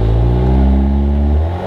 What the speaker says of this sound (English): And it did a small burnout.